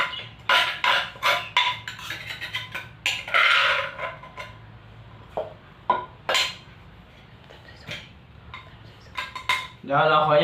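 Plates and cutlery clatter and clink close by while som tam is plated, a busy run of sharp metallic taps and scrapes with short pauses between, no talking.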